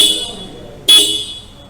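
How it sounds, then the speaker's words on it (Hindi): A short, loud TVS Apache 160 motorcycle horn honk bursts out once after a quieter stretch of idling background noise, then fades back down. "और हॉर्न आप इसका भी सुनो"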